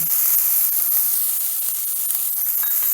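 Finely diced onion hits hot oil in a pan of five-lentil Rajasthani panchmel dal, giving a steady close hiss and sizzle with faint crackles throughout, no voices.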